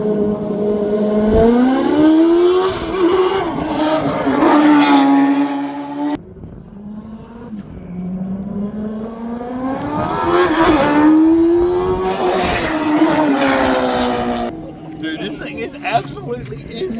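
A 410-horsepower twin-engine mini truck accelerating hard, engines screaming upward through rising pitch sweeps in two long loud pulls with a brief drop between, close and dominant, with voices faintly underneath.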